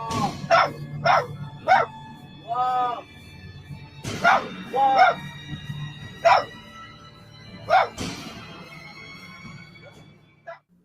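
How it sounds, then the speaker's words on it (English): A dog barks intensely in repeated loud, sharp bursts, some rapid and yelping, with a drawn-out whining cry between them, over a low background rumble. "It's at that exact moment when it appears that the dog's barking intensifies, and you can even hear the fear in it."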